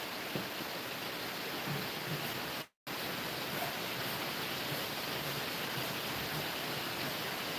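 Steady, dense rain hisses continuously, with one abrupt instant of silence partway through.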